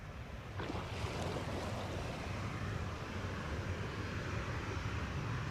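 A JetBlue airliner approaches runway 07 at Montego Bay, a steady distant roar of jet engines mixed with wind and surf-like rumble, constant throughout with no talk.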